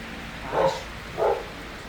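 A dog at a dog boarding facility gives two barks about half a second apart, moderately close and fairly loud over a low, steady background, with no one talking.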